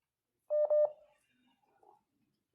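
Short burst of telephone dial tones, a few steady beeps in quick succession, loud and close, followed by faint quiet line noise while a call to a coach connects.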